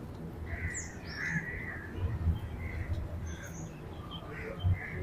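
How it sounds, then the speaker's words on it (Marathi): Birds chirp and crows caw in an office garden, the calls scattered and moderately distant over a steady low background rumble, with a voice talking faintly at times. "तिथे कम्प्लीट पक्ष्यांचा किलबिलाट वगैरे चालू असतो"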